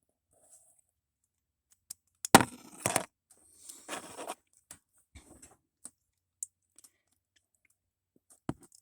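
Lego Transformer parts clicking and scraping as the arms are folded out and rotated, a handful of sharp plastic clicks with a short dense burst of rattling in the middle, close and otherwise quiet.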